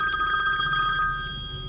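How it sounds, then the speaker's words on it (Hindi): A telephone rings continuously at close range with a bright, steady electronic tone, and no one talks over it. "दूसरे भिखारी के फोन आता हुआ"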